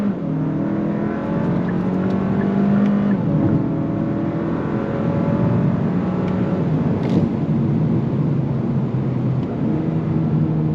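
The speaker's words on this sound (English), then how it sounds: "Definitely more power than the TLX A-Spec, that's for sure. Nice downshifts." A 2023 Kia K5 GT sport sedan's engine pulls hard under acceleration, its loud, steady drone rising in pitch, dropping with each downshift and climbing again, heard from close by with no talking.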